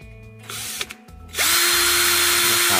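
A cordless drill fitted with a grinder arbor adapter starts in short bursts, then spins up to a loud, steady whine at a higher speed setting, close up.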